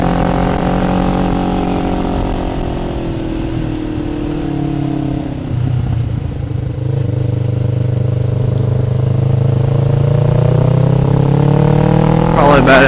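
Motorcycle riding along a mountain road in second gear, engine droning loud and close with pitch sliding down and then rising again, under heavy wind rumble.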